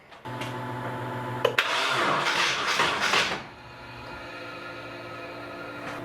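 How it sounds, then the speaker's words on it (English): A Nissan 240SX engine, started for the first time in two years, turns over on the starter with a loud, rough churning burst lasting about two seconds, then drops back to a steady idle hum. "the only way I can turn the engine over is if I kick it over on the starter"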